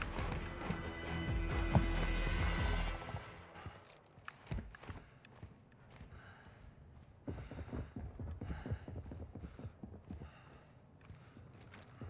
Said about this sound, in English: Heard them big old footsteps.